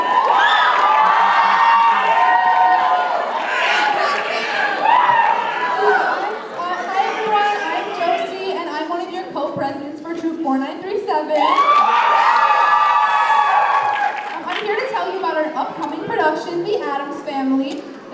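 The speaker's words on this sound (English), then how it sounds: "Give her a round of applause, everyone." School talent show crowd claps, cheers and shouts in excited bursts, voices of teenagers rising and falling over sustained applause across the whole stretch, loud and close.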